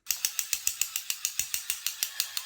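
Gear mechanism of an animatronic crawling soldier toy running, giving a steady train of sharp ratcheting clicks about every fifth of a second, close and clear, with no talk.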